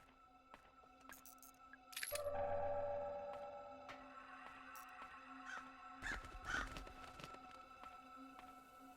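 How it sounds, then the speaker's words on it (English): A crow caws a few times in the video game Bomb Rush Cyberfunk, over a quiet electronic ambience with sparse pings and a soft thud or two. "Hello, Mr. Crow."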